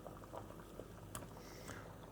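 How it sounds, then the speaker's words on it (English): Potatoes boil in a pot of water on the stove for crispy roast potatoes, giving a faint, steady bubbling and simmering hiss with a few soft pops and no talk. "they've been boiling for about 10 minutes now"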